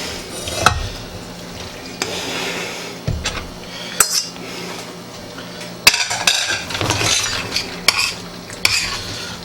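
A utensil stirs mac and cheese with Rotel in a pot, giving close, sharp scraping clinks and knocks against the metal at an uneven pace, alone with no talking.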